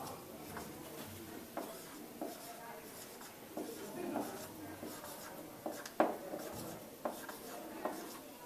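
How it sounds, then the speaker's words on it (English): Notes are written by hand, with intermittent scratching and tapping strokes of pen on paper at close range, fairly faint, with occasional louder taps. "So let's write that down."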